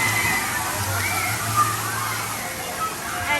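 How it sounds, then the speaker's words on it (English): Water pours and splashes steadily down onto the splash area of a water park, a continuous rushing wash nearby with faint distant voices mixed in. "where the water comes down"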